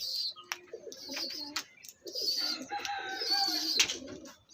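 While being fed a pill, a pigeon with pox gives soft cooing and short burbling calls at close range, in brief bursts with pauses between, alongside a few sharp higher chirps.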